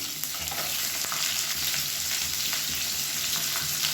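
Sliced onions sizzle in hot oil with chana dal and urad dal, a steady close crackle and hiss broken by occasional scraping stirs, with no talking.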